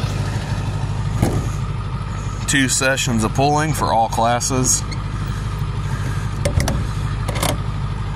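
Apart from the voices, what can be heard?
pulling truck engine idling while warming up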